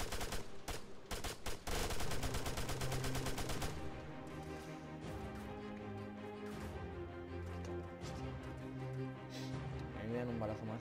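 Automatic gunfire in the Arma 3 Wasteland video game, rapid loud bursts at first, then more scattered shots and a busy game soundscape, with players talking throughout.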